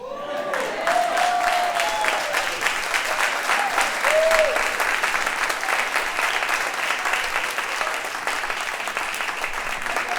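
Sustained applause from a church audience for the spoken word artist Lyrical Paradigm, dense and steady for the whole stretch, with scattered cheers and whoops rising above the clapping.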